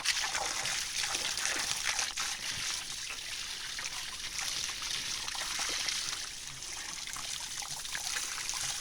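A stream runs continuously, trickling and splashing in an even wash of water. The sound is close and steady, with no voices.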